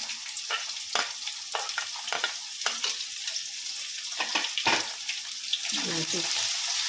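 Chopped onion frying in hot oil for Kathiyawadi vaghareli khichdi, a steady crackling sizzle with repeated scraping stirs of a spoon in the pan throughout.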